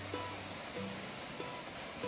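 Steady broadband rush of Basin Creek Falls, a waterfall near Ouray, Colorado, heard as a constant wash of falling water without clear breaks, moderately loud and continuous, with no voices over it.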